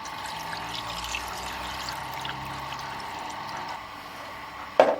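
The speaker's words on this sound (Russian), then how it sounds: "Мы сейчас зальем это водой, включим нагрев" Water pours steadily into a pot nearby, a continuous splashing flow that stops near the end, followed by a short metallic clank.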